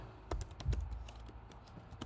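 Keys clatter on a computer keyboard while designing in Figma, a quiet, close run of irregular taps with a couple of louder strikes, alone without talk.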